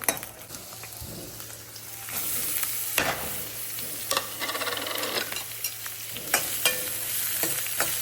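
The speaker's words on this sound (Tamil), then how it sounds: "வெங்காயம் வதங்கட்டும்." Onions sauté in hot oil with fennel, cinnamon, cloves, cardamom and garlic for a kurma, giving a steady sizzle broken by scraping stirs and light clinks of a spoon against the pan.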